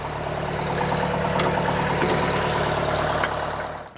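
Tractor engine running steadily at a low idle while the front loader is lowered, a continuous close drone that fades out at the end.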